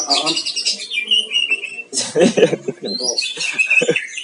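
A caged murai batu (white-rumped magpie robin) at a bird farm sings loud, close, varied whistles and chattering phrases almost continuously, with a voice speaking over part of it.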